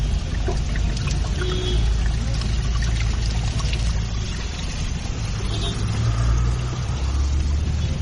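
Coolant pouring out of a Suzuki Hayabusa motorcycle during servicing, a steady loud trickling flow in a noisy workshop under a constant low rumble, with voices faintly mixed in.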